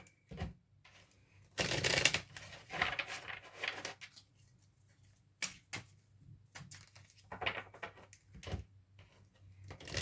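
Tarot cards being shuffled in several bursts, a loud riffling flurry followed by shorter papery shuffles and taps, close and with no talking.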